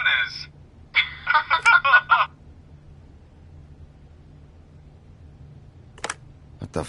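Telephone sounds from The Wolf Among Us video game: a burst of electronic tones, then a quick run of pulsing beeps, a long quiet hum, and a few sharp clicks near the end.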